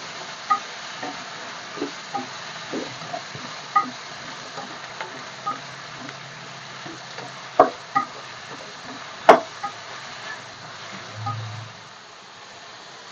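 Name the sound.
ingredients frying in a pan for field bean curry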